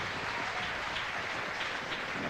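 Western Australian crowd applauding at a Perth cricket Test, a steady broad wash of clapping from a distant stadium audience, even and continuous with no voices over it.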